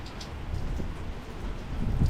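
Steady rain falls around a porch on a wet day, a continuous soft hiss with low rumbling patter that swells slightly toward the end, no voices.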